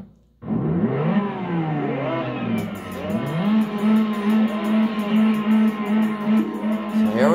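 An Aston Martin DB9 engine in the Test Drive Unlimited racing game, loud and continuous, rising and shifting pitch through repeated gear changes as the car accelerates, with a steady high whine held through the later part.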